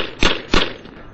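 Two sharp gunshots crack out close and loud, about a third of a second apart, each decaying quickly into quiet.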